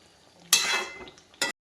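Gram flour (besan) frying in oil in a pan for a drumstick curry, with a short burst of sizzling and stirring followed by a brief second burst, close and fairly loud, with no talk.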